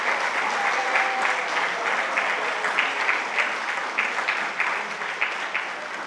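An audience at a veterinary and animal sciences college oath-taking ceremony claps steadily in a hall, a dense, sustained round of applause at even loudness throughout.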